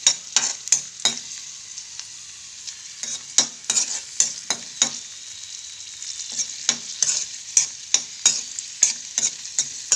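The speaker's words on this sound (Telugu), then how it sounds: "చూసారా ఫ్రై అవుతున్నాయి కదా." Cashews and raisins fry in a pan with a steady high sizzle, broken by frequent sharp pops and crackles in irregular bursts, heard up close without talk.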